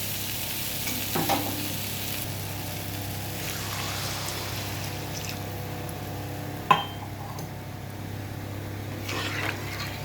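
Ground cumin and coriander powder fry in a pan, giving a steady low sizzle with occasional stirring scrapes and one sharp clack of a utensil partway through, and no talking.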